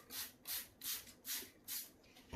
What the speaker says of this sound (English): I'm just going to basically spray the top third with water.